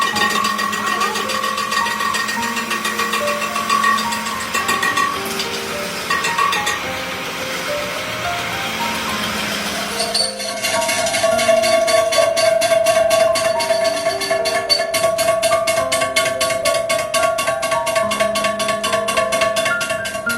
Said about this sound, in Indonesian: Mesin bubut ini bukan mesin bubut otomatis, melainkan mesin bubut manual.